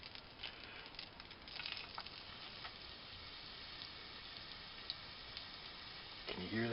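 Beef sizzles in a hot pan with a faint, steady crackle and patter that continues throughout, with a few louder pops and some handling noise near the end.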